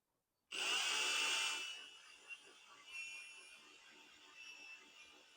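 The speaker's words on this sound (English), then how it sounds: "I just want to gingerly take this slow and easy and drill a hole" A high-pitched power drill whirs loudly for about a second, then fades into quieter, uneven scraping and grinding as it slowly bites into a dried gourd.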